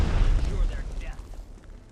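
Warship secondary gun fires in Strategic Mind: The Pacific, a single heavy boom at the start that rolls off and fades over two seconds, with a voice faintly over it.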